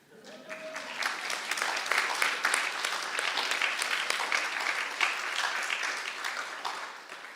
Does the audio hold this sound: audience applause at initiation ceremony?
yes